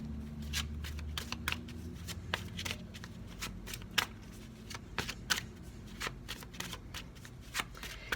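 Tarot cards shuffled by hand at close range, a quick run of crisp riffling flutters and taps repeating steadily with a faint low murmur beneath.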